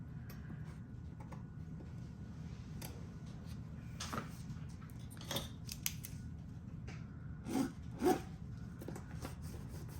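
A corner cutter snips the corners off paper while a junk journal is made, giving a handful of crisp, close clicks spaced irregularly over quiet room hiss.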